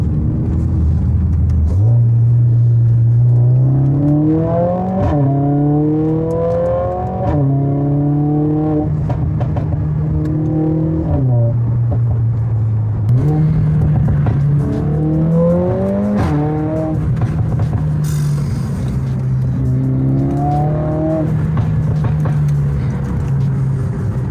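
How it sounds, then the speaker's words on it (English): A Mercedes A45S AMG's aftermarket exhaust roars in sport mode and rises through the gears, dropping pitch at each shift before revving up again, loud and close. "the gearbox is now in sports mode and even the exhaust sounds louder"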